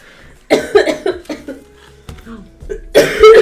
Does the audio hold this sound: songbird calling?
no